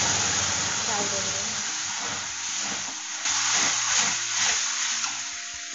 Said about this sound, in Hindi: जब ये जीरा सौंफ हमारा चटक जाएगा तो हम इसमें ये कैरी का पेस्ट